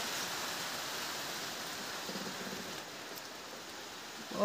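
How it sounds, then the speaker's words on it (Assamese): Heavy night rain falling steadily outside a room after hours of downpour, a dense, even hiss that holds constant throughout, with a brief louder knock right at the end. "এতিয়া বৰষুণ দি আছে"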